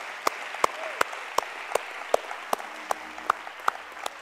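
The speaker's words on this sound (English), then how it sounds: "let's give him a hand clap of praise" Congregation clapping in praise during a church worship service: about a dozen evenly spaced, crisp hand claps in a steady rhythm, fairly close and clear over a quiet room.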